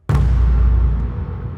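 A dark-toned cinematic trailer hit with no gong layer, striking suddenly with a heavy low boom and a rumbling, foreboding tail that holds loud for over a second.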